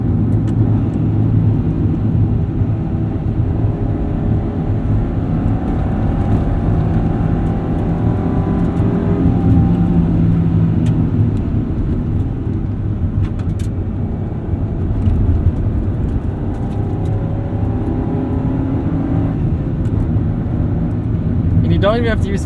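A golden-era Honda Civic Si engine hums and climbs in revs while driving, a steady, droning, moderately loud mechanical note with rising pitch sweeps, running under continuous talk inside the car.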